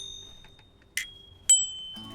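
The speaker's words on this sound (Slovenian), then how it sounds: "moji zvonci delajo cin-cin" A bicycle bell in a Teletubbies cartoon rings twice, bright and metallic, each ring leaving a short fading tone over a quiet background.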